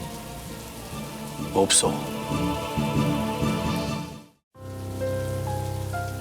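Steady rain falls hard on a surface, dense and close, with a short spoken phrase and a brief sharp knock partway through before the rain cuts out for a moment and resumes.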